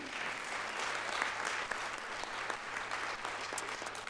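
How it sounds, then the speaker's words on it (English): Audience applause fills a panel discussion hall for a panelist, a steady, dense wash of many hands clapping at moderate distance, sustained evenly throughout without voices. "Round of applause for Elaine"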